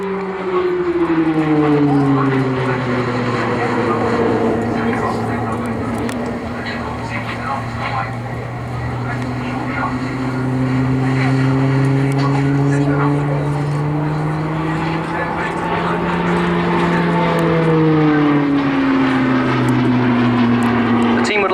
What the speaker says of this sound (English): Liam's first season as a display pilot and the Tucano's final year as a display aircraft